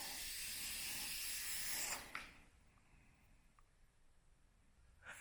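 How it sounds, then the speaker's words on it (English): A spray paint can hisses loudly and continuously for about two seconds, putting metallic black onto a car valve cover gasket, then stops abruptly, leaving faint background noise and a couple of light knocks. "I'm gonna spray it from here and see if I can get like a metallic black look to this valve cover gasket"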